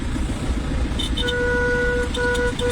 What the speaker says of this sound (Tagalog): Ano nangyari na sa busina natin?